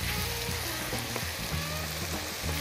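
Finely chopped onion fries in olive oil and butter, giving a steady, close, dense sizzle with faint crackles throughout and no voices.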